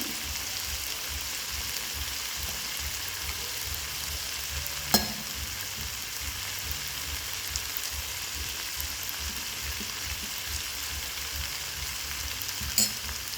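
Brinjal pieces coated with ground spice powder are stirred in a frying pan, a continuous close sizzle and hiss with soft stirring scrapes and a couple of sharp clinks of the spoon on the pan.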